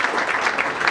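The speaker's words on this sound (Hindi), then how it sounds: "आप सभी की तालियां बजती रहनी चाहिए जब ये अवार्ड प्रदान किया जा रहा है" Dense audience clapping fills a hall as an award is presented at a music festival tribute, a steady loud patter of many hands.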